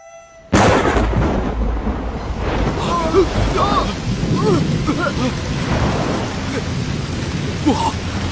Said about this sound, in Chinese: 不好，有暴风雨。